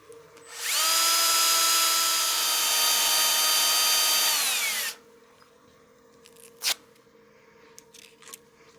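A power drill spins at a steady high whine for about four seconds while 220-grit sandpaper smooths a turned piece, then winds down, followed by a few small knocks and handling sounds.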